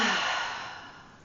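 One long, deep exhale through the mouth during a yoga class, a soft airy sigh that starts full and fades steadily over about a second, close to the microphone.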